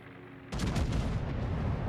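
Rear turret guns of a warship fire in World of Warships, a sudden heavy booming salvo that cuts in after quiet engine hum, then a rumbling decay lingering to the end.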